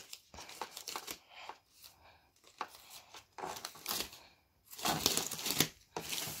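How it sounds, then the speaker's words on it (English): Scissors work at hard plastic clamshell packaging around an Autel MaxiCom MK808 scan tool, producing close, irregular bursts of crunching, crinkling and snapping with short pauses between cuts. "Let's see if we can get the scissors in there."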